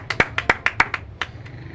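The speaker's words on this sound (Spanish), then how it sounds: "Démosles un aplauso al Señor, hermano." Scattered hand claps in a church service for the Lord, about nine or ten sharp, separate claps in an uneven rhythm from a few people nearby, thinning out toward the end.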